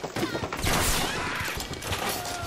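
Loud, dense gunfire from a gun in Bioshock, a rapid rattling barrage of close shots with crashing debris lasting the whole moment.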